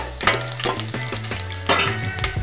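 Garlic cloves sizzle in hot oil for a raw mango kadhi, a continuous crackling fry broken by stirring clinks from a utensil against the pan.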